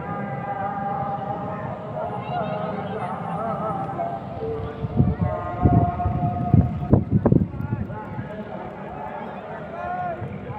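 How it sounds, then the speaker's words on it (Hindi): A long, wavering Friday call to prayer echoes from mosque loudspeakers near a cricket ground in Pakistan, with a voice talking over it and brief bursts of noise in the middle. "आपको अज़ानों से आवाज़ें भी आ रही होंगी।"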